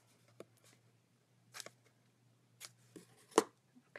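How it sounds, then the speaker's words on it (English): Scissors snipping paper while trimming a small Christmas paper gift box, heard as a few faint, sparse, crisp snips spaced apart in a quiet room, with no talk. "Just take a little snip out."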